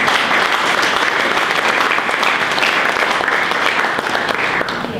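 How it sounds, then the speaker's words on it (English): An audience at a veterans' opening dinner applauds, dense sustained clapping from many hands filling the room, loud and even before easing slightly at the end. "I would like to everyone give a round of applause for the patriots here."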